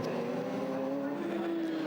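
Radical race car at Brands Hatch spinning at Graham Hill Bend: a sustained, loud engine drone with a steady tone and slight pitch drift, heard as through a broadcast feed.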